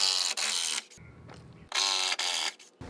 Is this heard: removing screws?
yes